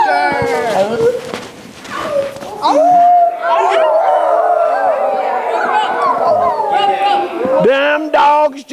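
A storyteller's voice imitates a pack of dogs howling and yipping, long wavering howls and whimpers drawn out for several seconds, loud and close, spoken aloud to an audience during a folk tale.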